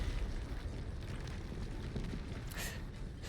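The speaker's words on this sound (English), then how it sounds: "Just a meteor out of nowhere!" A meteor impact explosion in the video game Arknights: Endfield: a deep, rumbling blast that rolls on through the clip with crackling debris and a sharper burst near the end.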